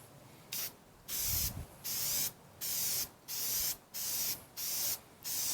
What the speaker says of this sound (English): we're going to go spray the filter a little bit